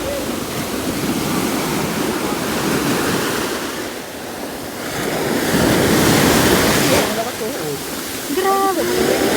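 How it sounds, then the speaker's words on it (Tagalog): Strong ocean surf pounds the beach at Playa Las Flores in Zambales, a loud, continuous wash of breaking waves with surges swelling and easing, and a brief voice near the end. "Sobrang lakas ng alon."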